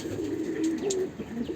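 Soft, wavering pigeon coos from a caged pair, several rolling calls in a row heard close up, with faint background noise and no talk.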